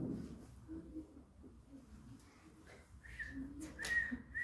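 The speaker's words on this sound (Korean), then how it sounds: "쌤 휘파람을 이렇게 볼 수 있어." A person whistles a few short, clear notes as a party trick in a classroom, faint and alone with quiet room noise.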